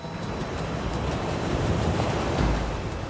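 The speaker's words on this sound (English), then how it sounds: "The west coast of Portugal in the old fishing village of Nazaré. Pretty much has the biggest waves in the world." Huge ocean waves at Nazaré on Portugal's west coast, off the old fishing village, make a continuous heavy roar of surf, with wind rushing across the microphone and no voices.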